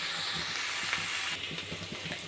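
Onion, ginger and garlic sauté in a hot pan as the base for a prawn gravy, giving a steady, close sizzle and crackle with faint stirring scrapes and no talking.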